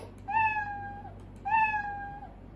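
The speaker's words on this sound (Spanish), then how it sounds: "Apretamos la banderita y dice el sonido de un gato." Two clear, separate cat meows from a Scratch programming sound effect, each a drawn-out tonal cry with a slight falling end, set against near silence.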